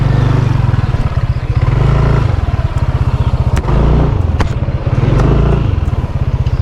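Several motorcycles idle and rev at close range as they pull in and park near a house during a moto camping trip to Cambanog Falls in Ronda, Cebu, their low engine throb steady and loud throughout.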